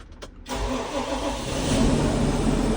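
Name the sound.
Fendt 724 tractor engine starting with key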